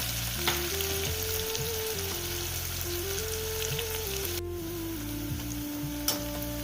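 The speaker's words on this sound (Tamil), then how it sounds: "சாம்பார் வெங்காயம் நல்லா பொன்னிறமாக வதங்கிடுச்சு." Small sambar onions with a pinch of salt fry steadily in a pan for mutton head curry until golden brown, a continuous close sizzle with occasional stirring scrapes and a gentle background hum, no talking.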